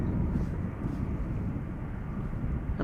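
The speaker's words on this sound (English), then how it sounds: "KLM flight 1856 arriving from Düsseldorf" A KLM Embraer 190 airliner arriving at Amsterdam Schiphol, a steady broadband engine roar mixed with wind rumble at the microphone, loud and unbroken for the whole clip.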